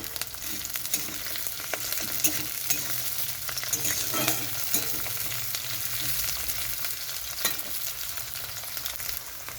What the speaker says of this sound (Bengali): তো এখানে পেঁয়াজ রসুনটা একটু ভাজা হয়ে গেছে